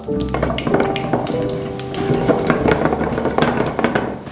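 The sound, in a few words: mustard seeds popping in hot oil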